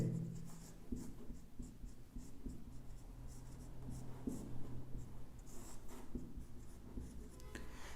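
Pen strokes on paper while a maths problem is worked through by hand, a steady run of soft scratching and short strokes close by, quiet and continuous with no voice over it.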